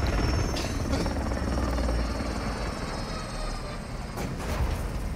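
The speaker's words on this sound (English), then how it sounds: "I can't hear you over the sound of the helicopter" A helicopter in the video game Call of Duty Warzone drones loudly and steadily throughout, its rotor chop constant with a few faint clicks on top and no clear speech.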